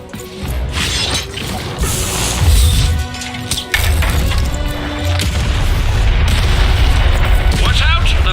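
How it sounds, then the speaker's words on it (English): Cannon blasts in the video game Lost in Random, heavy booming shots with crashing, shattering impacts and mechanical clatter, loud and close, several bursts over a continuous rumbling battle din. "Shoot the button to fire the cannon."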